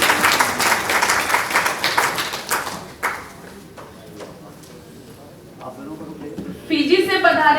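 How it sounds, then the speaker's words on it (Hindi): Applause from the audience at an international Hindi conference, dense and loud for roughly three seconds before it breaks into scattered claps, then voices and murmuring, with noise rising again at the end. "उनके साथ देने के लिए जोरदार ताली बजाइए"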